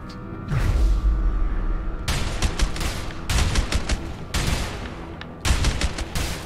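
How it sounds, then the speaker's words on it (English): Loud bursts of gunfire in the video game A Way Out as a character is shot repeatedly, coming as several rapid volleys of shots with brief gaps between them, and no talking. "Better shoot him just a few more times."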